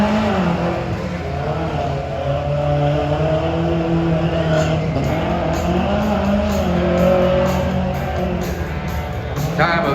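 A 1983 Ford Ranger pickup tears around a Tuff Trucks competition course, its engine revving loud and continuous for the whole stretch, with rising and falling pitch as the first-time driver throws the truck about.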